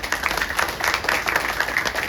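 An audience at a devotional gathering claps together, a brisk, fairly loud wave of applause with rapid, even hand claps throughout.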